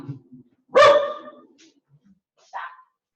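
A pet dog indoors gives one loud, close bark, then a pause and a second, shorter and softer bark or yip, with near silence around them.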